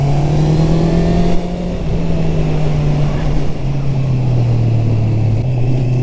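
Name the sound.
Honda CB650R motorcycle engine revving on throttle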